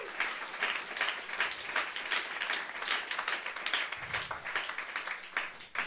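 A church congregation claps for Jesus during a sermon, lively close applause that stays dense and uneven throughout with no talk.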